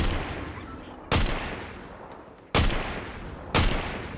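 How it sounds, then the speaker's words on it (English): Gunfire in Fortnite Chapter 5 Season 2: a steady rattle of shots fills the background, broken by three loud sharp bursts at roughly even intervals, with no talk. "More gunfire."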